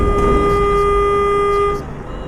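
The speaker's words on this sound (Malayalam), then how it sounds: "ഹോൺ അടിച്ച ചേച്ചി കേട്ടില്ലേ?" A KSRTC bus horn sounds in the Euro Truck Simulator 2 game, one loud, sustained honk lasting nearly two seconds over engine rumble before cutting off.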